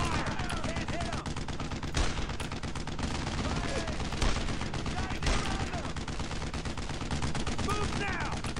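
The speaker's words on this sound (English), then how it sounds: "I need suppressing fire!" Gunfire in the World War II shooter Brothers in Arms, a dense stream of rifle and machine-gun bursts crackling continuously with sharper louder shots around two, four and five seconds, under a busy game soundscape.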